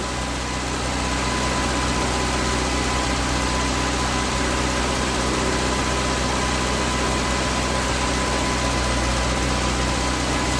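A car engine idles steadily with its motor oil drained and diesel fuel in its place, a loud, unbroken low rumble with an even drone that does not change for the whole stretch and no voices.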